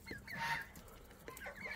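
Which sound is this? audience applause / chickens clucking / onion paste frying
chickens clucking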